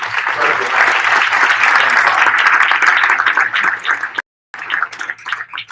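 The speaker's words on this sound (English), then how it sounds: "Why don't we give them a round of applause?" Loud, dense applause from a crowd at the installation of Mayor Suarez as president of the United States Conference of Mayors, honoring the executive staff, sustained for four seconds, then a sudden cut and a brief resumption.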